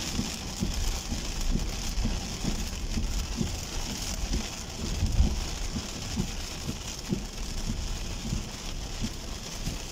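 Heavy rain pours in a steady, dense wash during a storm, loud and continuous with no voices over it.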